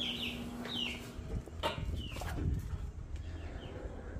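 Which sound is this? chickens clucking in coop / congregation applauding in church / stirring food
chickens clucking in coop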